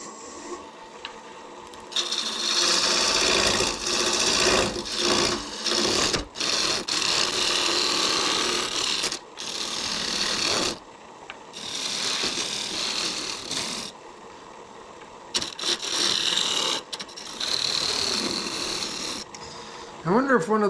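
A wood lathe turns a cherry bowl while a tool cuts in repeated scraping bursts of several seconds each, separated by short pauses, at moderate loudness.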